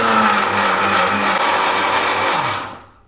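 A mixie grinder whirs loud and continuous while blending fried sambar ingredients with added water, its motor pitch dropping as it spins down near the end.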